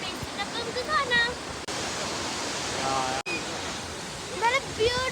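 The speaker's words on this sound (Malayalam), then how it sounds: "നല്ല വെള്ളച്ചാട്ടം" A waterfall near Cardiff gives off a loud, continuous rushing roar that fills the air, broken by two abrupt cuts, while small birds chirp faintly over the steady white-noise wash.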